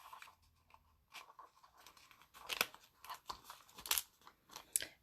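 A paper gift box lid is folded and its two tabs tucked in, giving quiet crinkles, soft creases and a few sharper paper snaps close by, with no voices.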